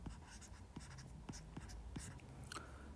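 Pen or marker writing an equation on a surface, a series of faint scratchy strokes and light taps spread across a few seconds, close but quiet over a low steady hum.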